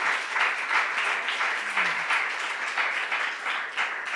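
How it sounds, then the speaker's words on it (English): Sustained applause from a crowd, dense and even clapping throughout with no pauses, moderately loud and continuous. "Applause for that"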